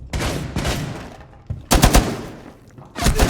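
Video game gunfire in a siege-style shooter: loud bursts of rapid shots in clusters, some sharp single cracks, separated by brief quieter gaps.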